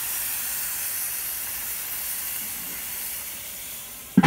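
Blackened catfish fillets sizzling steadily in a hot cast iron pan, a loud continuous hiss that ends with a brief clatter.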